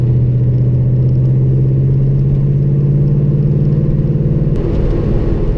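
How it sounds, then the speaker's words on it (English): A steady low V8 engine drone heard from inside a moving 1960 Studebaker Lark with a four-barrel carburetor, dual exhaust and four-speed manual, loud and even, with a brief shift in tone near the end. "we're driving in a 1960 Studebaker Lark with a V8 and a T10 4-speed, 4-barrel dual exhaust"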